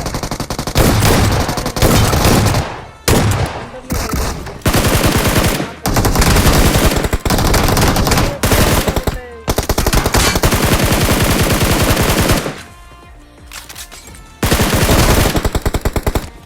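Loud, close bursts of rapid automatic gunfire from the shooter game Free Fire, several long sustained volleys broken by brief gaps and a quieter lull near the end.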